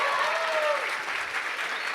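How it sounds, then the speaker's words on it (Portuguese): Audience applause for a group of young students at a Brazilian event, a continuous, moderately quiet wash of clapping with a faint whistle-like tone near the start. "Cadê uma salva de palmas para essa gente maravilhosa?"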